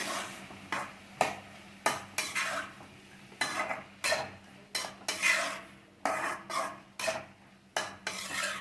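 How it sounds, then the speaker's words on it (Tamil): Potatoes with turmeric and salt stirred in a pan, a spoon scraping and clinking against the metal in irregular strokes over a faint sizzle, close and without talk. "நல்லா கிளறி விட்டுக்கலாம்"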